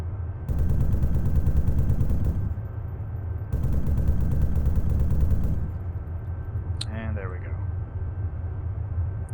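Heavy automatic gunfire from an armored vehicle's .50 cal and 40mm guns in the ArmA 3 video game, two long sustained bursts of rapid loud shots separated by a short pause, followed by a quieter rumbling tail.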